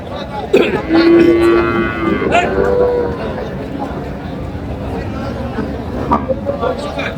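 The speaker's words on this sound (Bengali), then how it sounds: "গাভী বাছুর" At a busy cattle market in Dinajpur, a cow with her calf gives a loud, drawn-out moo close by, set against crowd chatter and nearby people talking.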